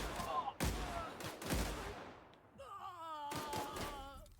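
Gunfire in The Outer Worlds, several sharp shots and bursts booming in quick succession, with a stretch of tonal in-game chatter in between, fairly faint overall.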